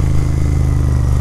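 A GT650 motorcycle rides slowly through traffic, its twin-cylinder engine throbbing close and loud in a steady, low, pulsing idle-like rumble with a light mechanical clatter and no talking.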